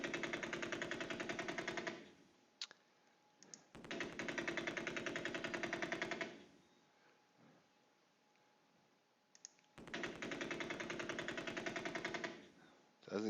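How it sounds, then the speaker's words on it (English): A heavy machine gun in a tank video game fires three long rapid bursts of dense, even shots, with quiet gaps between them. "Another heavy machine gun."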